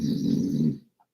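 A dog makes a loud, continuous grunting snort that sounds like a pig or hog, close to the mic, lasting under a second before breaking off into near silence.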